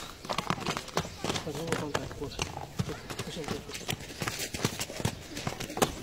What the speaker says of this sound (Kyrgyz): Аттын ары бери басып, эки жакка айлантып да көрсөтөсүң ба атыңын?